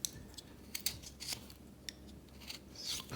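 A knife makes a stop cut into wood while whittling a small Santa Claus carving, heard as a few short, close, crisp scraping snicks spaced irregularly over a low background hum.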